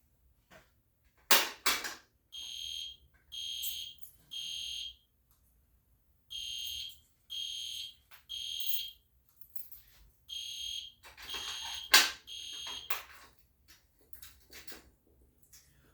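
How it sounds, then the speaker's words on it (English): A loud EST Genesis fire alarm horn sounds in repeated bursts of about a second each, separated by short silences. Some clattering and noise come in between the bursts. "let's go ahead and just pull the fire alarm"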